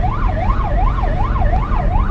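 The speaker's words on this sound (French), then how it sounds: "il a quand même fini par s'en aller avec l'ambulance" A loud ambulance siren wails in a rapid, regular rise-and-fall pattern over a low engine rumble, close by and unbroken, cutting off abruptly at the end.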